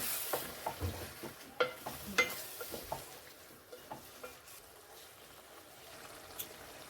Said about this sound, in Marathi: आपण यात आता वाफवलेला मटार घातलाय तो चांगला मिक्स करूया त्या मसाल्यामध्ये